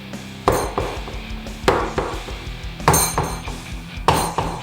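A silicone pan filled with batter is slammed on a kitchen counter several times, each hit a sharp, close thud with a brief clatter, spaced unevenly over a few seconds.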